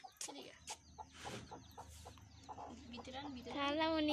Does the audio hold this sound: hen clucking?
yes